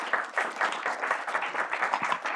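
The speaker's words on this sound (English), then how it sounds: "A round of applause for our panelists." An audience at the launch event of a Brussels office applauds its panelists with steady, moderately loud clapping from a roomful of people, continuous throughout, with no voices.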